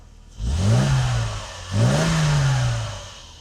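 A Mercedes W126 300SEL engine, just repaired after a fuel distributor fault, is revved twice in quick succession, each blip rising and falling smoothly, loud and close with no talking.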